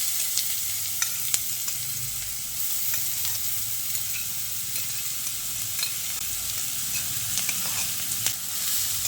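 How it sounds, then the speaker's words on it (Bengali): Grated beetroot sizzles in hot oil with fried tempering spices, a steady hiss broken by sharp clicks and scraping stirs of a spatula against the pan. "এবার আমি এই গ্রেট করে রাখা বিটটা দিয়ে দিচ্ছি।"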